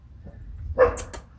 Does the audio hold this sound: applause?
no